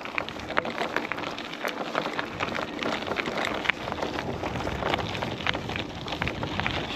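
Steady rain begins falling as a shower starts, a continuous close hiss of drops spattering on surfaces with no pauses.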